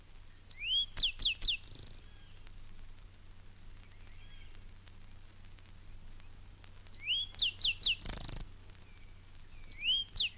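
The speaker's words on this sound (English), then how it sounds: "a robin-like bird whose notes add variety and color to the bird chorus of this oasis" A robin-like songbird singing in a Central Florida garden oasis amid orange groves: two bursts of clear, bright whistled phrases with quick slurred notes, separated by a long pause with faint background hiss and a low hum.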